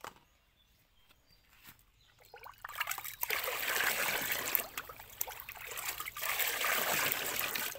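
Milk and a photosynthetic bacteria solution poured into a bucket of water while preparing a fertilizer for Chinese water spinach; a quiet start builds into a steady, close splashing and trickling pour that continues to the end.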